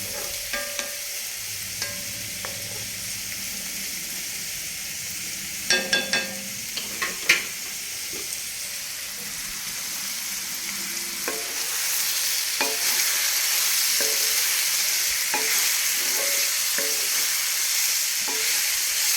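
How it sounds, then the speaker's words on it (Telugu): Chicken fries in butter with sliced cucumber in a pan, a steady sizzle rising and growing louder, with clinks and scrapes of stirring scattered through it. "కొంచెం వేగిందండి చికెన్."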